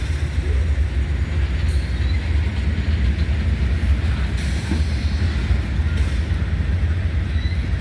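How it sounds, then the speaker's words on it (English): A northbound coal train rolls past close by, a loud continuous rumble of heavy freight cars with faint clicks of wheels over rail joints and no voices. "Coal train headed north, going to Greenwood to go home."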